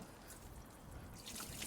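Tap water used as coolant drips and trickles from a leaking hose on a K-swapped Honda Civic, a quiet steady patter of drops with a slightly brighter splashing burst toward the end, no voices.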